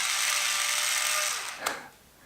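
A 3.6 volt cordless electric screwdriver runs with a steady, high, thin whine, then slows and winds down with a small click as the motor stops.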